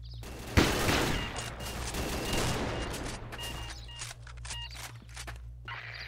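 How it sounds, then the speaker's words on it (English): Rapid gunfire in a shooter video game crackles in a dense burst, then breaks into scattered shots and clicks. "Someone's shooting me all the time."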